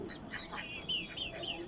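Chickens cluck in a backyard where greens are being picked, a run of short, close, soft clucks and chirpy calls over a low rustling background.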